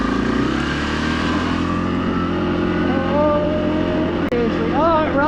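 A Yamaha Grizzly 700 ATV with power steering runs under its rider, its engine droning loudly and steadily up close with rising revs near the end, while voices talk over it.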